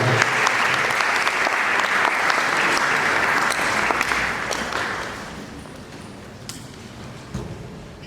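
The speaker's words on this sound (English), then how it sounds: "With a round of applause, let's welcome him." Loud, dense audience applause at a legal conference greeting a keynote introducer, steady for about five seconds before tapering off into a quieter hall with a few stray sounds.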